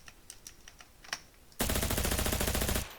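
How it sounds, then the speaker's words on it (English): Burst of Uzi submachine gun fire in Krunker, a rapid continuous rattle lasting just over a second after a few faint clicks, loud and close with no voices. "take a look at the Uzis."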